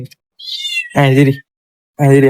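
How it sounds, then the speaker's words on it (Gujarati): A cat meows inside a small workshop, three short close meows, the first higher and thinner, the next two fuller and louder. "કારખાનામાં મીંદડી આવી"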